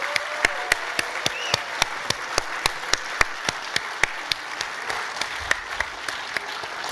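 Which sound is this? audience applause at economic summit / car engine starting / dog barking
audience applause at economic summit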